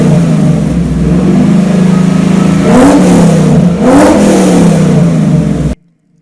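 A Coyote V8 swapped into a 1968 Ford F100 rumbles loudly up close and revs twice in rising-and-falling surges, then cuts off abruptly into silence.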